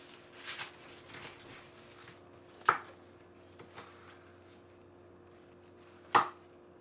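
A knife slices down through a pineapple on a cutting board in a home kitchen, with two sharp distinct chops standing out among faint softer cutting and handling sounds.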